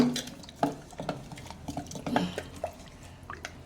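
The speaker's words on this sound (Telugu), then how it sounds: "మళ్ళీ బాగా ఇట్లా అంతా కలపాలి" Salt being stirred into bottle gourd pulihora, a tamarind rice dish, with scattered spoon scrapes and soft clinks against a pot, near and fairly quiet, no talk.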